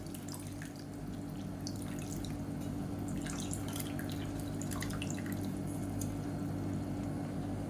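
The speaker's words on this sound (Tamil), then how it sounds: "இந்த ஸ்டேஜில் புளி தண்ணி தேவையான அளவுக்கு சேர்த்துக்கோங்க" Tamarind water poured into a curry simmering in separated oil, a steady wet pour with crackling, squishy bubbling and dripping throughout, close and fairly quiet with no talking.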